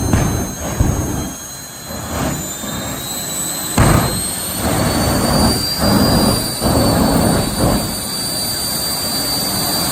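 A jet car at a night drag race roars in a steady, loud, continuous whine-and-rumble, with a high sustained tone sweeping slightly over dense broadband thrust noise and no talking.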